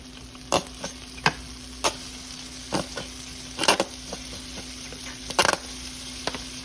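Spoon scraping and stirring in a hot skillet where burger buns toast with a spread of mayo, scattered sharp clinks and taps over a steady low sizzle, close and fairly quiet.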